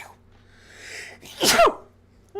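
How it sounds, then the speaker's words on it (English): A single loud, close sneeze bursts out after a brief indrawn breath, sharp and sudden against a quiet room. "I feel a sneeze."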